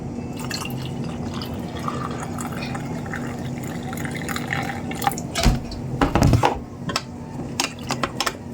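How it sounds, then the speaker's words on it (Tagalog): Water poured into soaked rice coffee and stirred in, heard as steady dripping and liquid sloshing that grows into louder clinks and stirring toward the end. "Then, haluan natin ng konting tubig."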